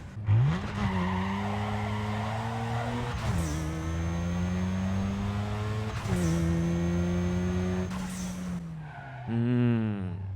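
A Mazda RX-7 engine in Need for Speed Underground 2 revs and climbs through gears in repeated rising sweeps, with tire squeal and a final sharp rev burst, loud and close without talk.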